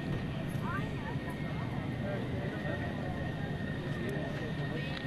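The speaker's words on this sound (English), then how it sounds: "Watching the airplane taxiing in gives you an opportunity to wave to the pilots" A navy airplane taxiing at an airshow produces a steady, faint engine whine and rumble under continuous talk.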